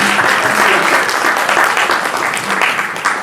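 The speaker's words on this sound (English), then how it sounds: "A round of applause for them." An audience at an industry panel session applauds the panelists, a loud sustained wash of clapping lasting a few seconds, with faint voices beneath.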